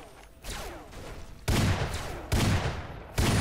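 A grenade machine gun firing in Fallout, sending out three heavy explosive impacts in a steady spaced rhythm, each a loud booming burst with debris rumble trailing into the next, no talking over it.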